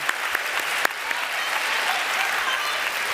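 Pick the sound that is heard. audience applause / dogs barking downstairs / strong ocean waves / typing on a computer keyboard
audience applause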